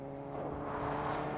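A vehicle in the video game Fortnite drives past with a soft, low engine whir that swells gradually as it draws nearer. It stays fairly distant and faint throughout.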